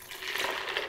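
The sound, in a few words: water poured into a blender with cashews and hemp seeds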